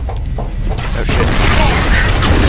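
Stake gun shots and mechanical clanks from the Penetrator weapon in the F.E.A.R. video game, with sharp bursts early followed by a rising, dense wash of booming game noise.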